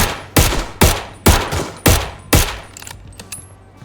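A pistol in the video game Star Atlas fires five loud, sharp shots at an even pace, followed by a few faint clicks and rattles.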